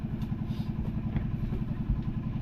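A Honda motorcycle engine runs steadily up close, with a low, even, throbbing idle rhythm and light mechanical clatter throughout.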